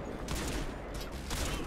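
Rapid gunfire in the Crysis 3 video game, a dense, loud burst of shots with sharper cracks standing out near the start and end, no talk.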